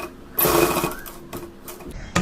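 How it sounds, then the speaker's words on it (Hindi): A simple sewing machine stitches back and forth to secure a hook and eye on a blouse, with a short burst of close mechanical whirring, a pause, then another brief run. "घुमाने के बाद में सिलाई को हमें आगे पीछे करके पक्का करना"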